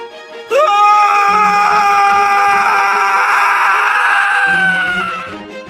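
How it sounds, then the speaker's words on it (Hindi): A man's terrified scream in a 2D cartoon story, a loud sustained high-pitched cry that starts abruptly, holds for about five seconds and trails off, over a low background tone. "कमरे से अर्जुन की भयानक चीख की आवाज आती है।"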